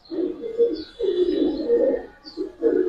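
Silver khaki pigeons, pala-line Giribaz and colour breeds, coo in low, soft, repeated phrases close by, three rounded bursts with brief pauses between them.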